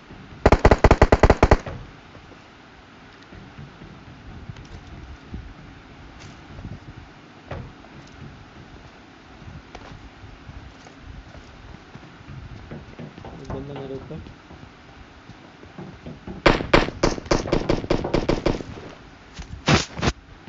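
Automatic weapon fire in the battle royale game PUBG, with loud rapid bursts at the start and again near the end over a steady game background, while players talk throughout.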